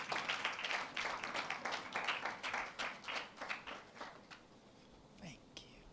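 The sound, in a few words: audience applause as speaker comes on stage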